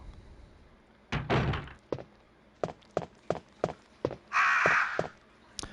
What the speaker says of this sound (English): So these crows, I used to just think you had to shoot them or they'd get you.